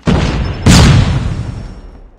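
A flashbang grenade goes off in Call of Duty Mobile during a ranked Hardpoint match, giving a loud close burst with a second sharper blast about half a second later, then a rumble that fades.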